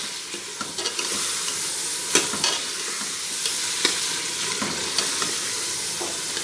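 Steady sizzling of mutton frying, with intermittent scraping and clinks of a spoon stirring in the pot, close and continuous.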